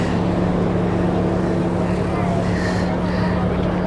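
A boat crosses Sydney harbour with a constant low engine drone and rushing wind and water noise, and no clear break in the sound.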